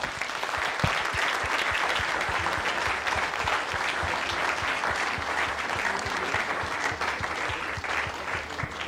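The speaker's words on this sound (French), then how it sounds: "il ne reste plus qu'à vous applaudir" Sustained applause from an audience, steady and dense clapping throughout with no voices over it.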